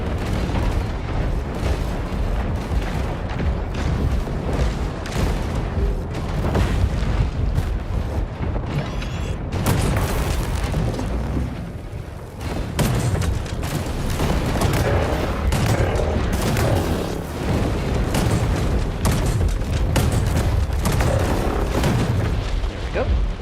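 Repeated Magneto weapon fire in a shooter game: loud booming shots and rapid bursts sounding almost nonstop for over twenty seconds, close and heavy, with only a couple of brief lulls.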